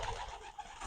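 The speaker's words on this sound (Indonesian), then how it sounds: "burung Mas Kaiso ini modelnya suka bekur" A male Kaiso dove coos continuously in a low, throaty burble, close and steady, against an outdoor background with no speech.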